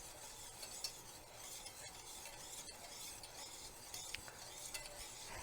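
Hollandaise sauce with melting butter is stirred in a pan, producing a quiet, steady whisking swish with a faint sizzle and a few light clinks.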